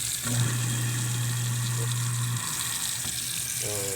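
Tap water pours steadily into a kitchen sink fitted with a garbage disposal, a continuous close hiss with a low hum underneath, ending in a brief rattle.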